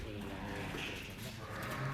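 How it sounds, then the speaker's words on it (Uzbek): Sheep on a livestock farm with a flock of about sixty, bleating faintly in the background over steady low rumble and indistinct voices. "mana qo'ylari"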